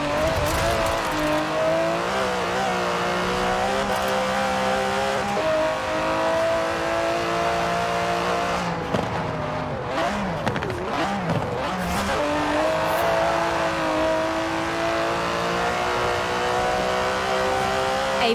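A twin-turbo 5.2-litre V12 Aston Martin DB11 in Forza Horizon 4 revs loudly and continuously, climbing and dropping through gear changes with brief tyre squeal, close and alone with no talk.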